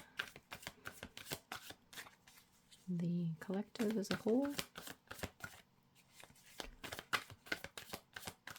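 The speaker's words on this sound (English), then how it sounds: "when I was shuffling the cards earlier, the cards were very reluctant to come out" Tarot cards being shuffled by hand, a rapid run of crisp riffling flicks and slaps repeating through the clip, close and clear, while a person speaks briefly in the middle.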